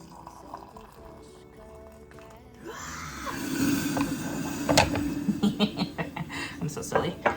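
Water bubbles while lemon ginger tea is being made, starting quiet and then swelling into a busy gurgling and popping boil with sharper ticks, close by.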